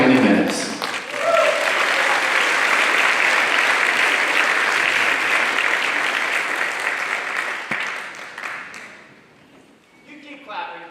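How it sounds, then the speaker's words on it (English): A concert audience claps steadily and loudly as a folk trio playing 1970s story songs is introduced, the applause sustained for most of the stretch before fading out near the end. "You keep clapping."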